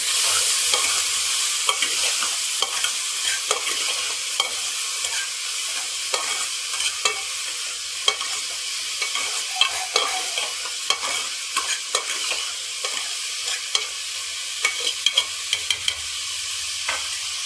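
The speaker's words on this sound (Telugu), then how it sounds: "వీటన్నిటిని బాగా కలుపుకోవాలి ఈ విధంగా." Eggplant pieces and other ingredients stirred together in a hot pan for an Andhra-style dish, steady sizzle with frequent rhythmic spatula scrapes and clinks against the pan, close, no speech.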